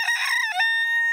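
A cartoon rooster crows once, a short bright cock-a-doodle-doo voiced as a sung imitation, close and clear with a held tonal ending.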